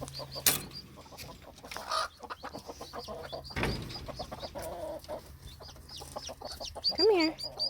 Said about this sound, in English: I'm gonna put you with the rest of the little chicks.